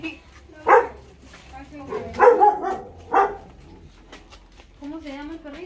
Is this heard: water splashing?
no